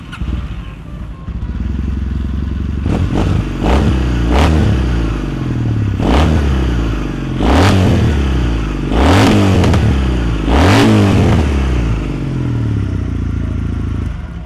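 A 2012 Kawasaki W800 twin-cylinder retro special edition motorcycle fires up close by, then settles into a steady idle broken by several sharp throttle blips that rise and fall, with no talk over it.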